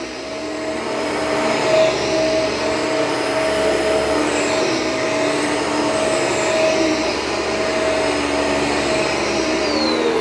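A Shark smart vacuum cleaner runs on carpet in boost mode, a loud steady motor whine with a high tonal hum and slight pitch shifts as it passes back and forth, close and continuous, no talking.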